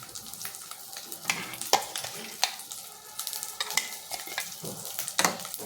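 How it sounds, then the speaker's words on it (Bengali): Poppy seed paste and mustard paste stirred in a pan over lowered heat, with repeated scraping strokes of the spoon over a soft sizzle, close and moderately quiet. "একটু নাড়িয়ে নিলাম, ভালো করে মিশিয়ে নেব।"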